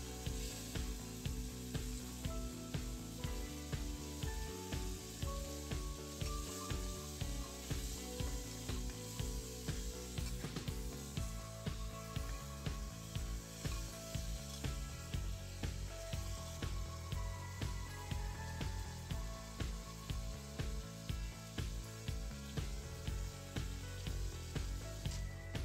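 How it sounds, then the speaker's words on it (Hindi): Dal being tempered in a pan gives off a steady, continuous sizzle and crackle of hot oil at moderate volume, with faint clinks and spatters throughout and no talking. "बस दाल मैंने छौंक दी है"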